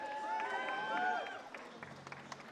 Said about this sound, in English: Big round of applause for them, ladies and gentlemen.